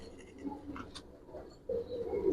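Giribaz pigeons in a loft coo softly, with a few low murmuring calls and a steadier cooing swell toward the end, close and fairly quiet.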